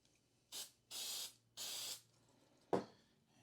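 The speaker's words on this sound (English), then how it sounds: "And then I'll hit the other side with an activator spray." Short hissing bursts of activator spray hit thick super glue on a fish-skull guitar part: three separate sprays close by, each about half a second, then a sharp click from the can.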